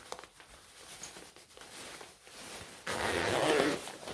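A Gore-Tex shell jacket is zipped up in one quick, close rasp after a stretch of soft rustling fabric.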